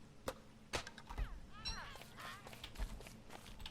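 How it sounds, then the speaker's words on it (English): Parrot squawks in the survival game Don't Starve: Shipwrecked, a few short, warbling bird calls in the middle, mixed with sharp clicks and thumps of in-game action, fairly faint and soft overall. "Oh no, it's a bird. It's a parrot."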